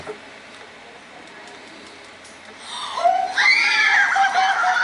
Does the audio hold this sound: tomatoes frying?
no